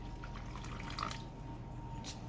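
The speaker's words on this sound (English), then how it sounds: "I am going to add about a fourth of a cup of water" Water poured from a cup into a mustard and turnip green dip makes a faint, steady trickle lasting a couple of seconds.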